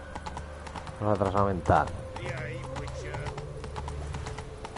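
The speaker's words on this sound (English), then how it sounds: "¿Qué le pasa al caballo este?" Horse hooves clip-clopping in The Witcher 3, a steady, rapid train of light hoof clops that runs throughout under someone talking in Spanish.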